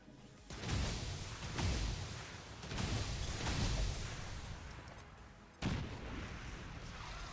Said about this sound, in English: fastball, a fire grenade on that snake down there.